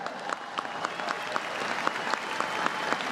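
A short burst of steady audience applause, many hands clapping in a dense, even wash at moderate volume.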